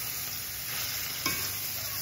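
Tomatoes stir-frying in a pan for a spicy shredded tuna breakfast dish make a short, soft, steady sizzle with one brief stirring scrape partway through, and a high whine runs underneath.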